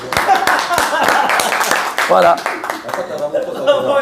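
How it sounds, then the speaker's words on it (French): Scattered audience clapping during a religious lecture, with irregular individual claps mixed under a voice that keeps talking over them. "On applaudit."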